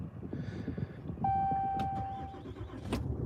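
An old truck engine cranks with a low, rough, chugging turnover that keeps going for several seconds, joined partway through by a sustained whine, close and fairly loud with no speech.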